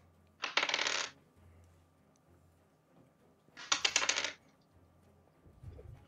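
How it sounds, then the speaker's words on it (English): Three dice rolled across a table during a tabletop role-playing game session, two separate clattering bursts of tumbling and bouncing, close and fairly loud, with quiet room noise between them. "How many dice are you rolling?"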